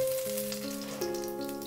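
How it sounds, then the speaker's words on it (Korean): Shredded potato and cheese pancake frying in a lightly heated frying pan gives a soft, steady sizzle under a quiet melody, with no talking. "살짝 달군 프라이팬을 구우면 맛있는 치즈 감자채전 완성."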